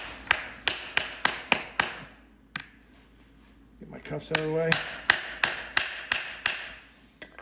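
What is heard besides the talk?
hammer tapping stud inserts into hoof boot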